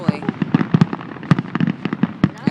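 Fireworks finale bursting in rapid succession, with many sharp explosions and crackles in an irregular, dense barrage at close to middle distance, loud throughout.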